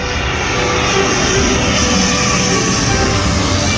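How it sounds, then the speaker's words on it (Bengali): A loud airplane engine roars steadily close overhead as it approaches at Uttara, Dhaka, a dense continuous rumble with a whooshing edge and no voices. "এরপর পরবর্তী বিমানটা এগিয়ে আসছে আমাদের দিকেই"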